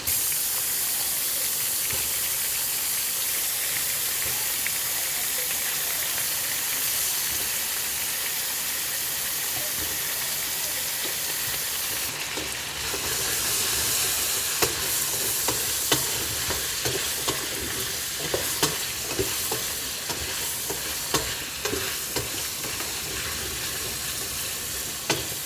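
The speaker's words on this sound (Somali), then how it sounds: "baradhaan ku daraaya iyadana si ay ula shiilanto" Potatoes frying in a pan give a steady, dense sizzle and hiss that holds throughout, brightening partway, with scattered scraping and stirring taps near the pan and no talk.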